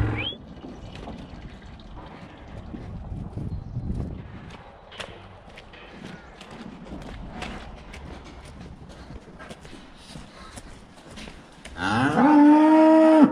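Cows mooing in a farm shed on turnout day, repeated loud lowing calls over clattering hooves and shed noise, with one close, louder moo near the end.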